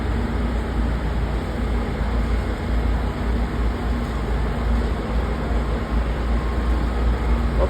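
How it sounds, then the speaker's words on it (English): An airport rail link train rumbles at Toronto Pearson in a broad, steady wash of noise that holds through the whole stretch, with no voices. "Oh, another train's coming there."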